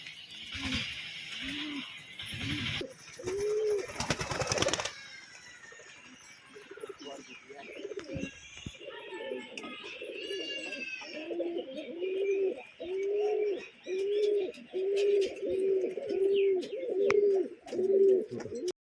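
Pigeons coo in repeated low, rhythmic bursts close by, growing steadier and more regular toward the end, with a short stretch of louder noise and some talking early on.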